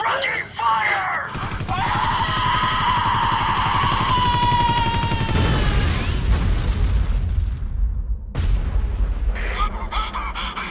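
Loud anime battle effects erupt as bursts of gunfire and a booming explosion, with rumbling debris and a rising whine layered over a dense roar, cutting off briefly before another blast; voices are mixed in.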